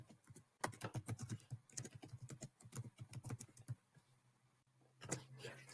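Fingers type a short email subject line on a computer keyboard in quick, uneven bursts of close, crisp keystrokes with brief pauses, quiet overall and without any talking.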